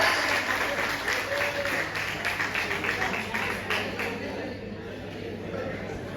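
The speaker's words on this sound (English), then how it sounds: "So please give a round of applause." Audience applause after a school class debate: a crowd claps in a steady, lively burst that gradually thins and fades out toward the end, with some voices underneath.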